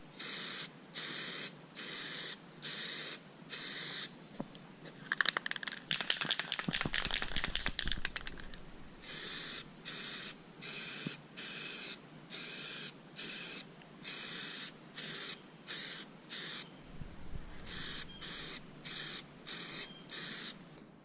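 A spray gun lays a third coat of paint over the repaired areas of a cracked C3 Corvette interior panel: repeated short hissing bursts in a steady rhythm, close and clear, with one longer, louder continuous spray in the middle.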